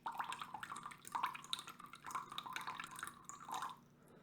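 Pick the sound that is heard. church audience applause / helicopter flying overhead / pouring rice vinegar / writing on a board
pouring rice vinegar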